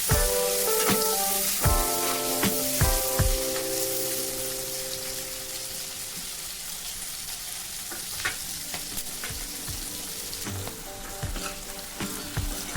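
Onions frying in hot oil until browned, a dense continuous sizzle with a few sharp stirring clanks early on and again later, close and loud with no talk.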